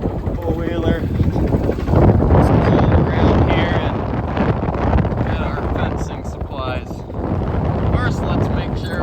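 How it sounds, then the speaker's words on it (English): Strong wind on a ranch roars and buffets the microphone throughout while people talk over it. "Man, it's windy."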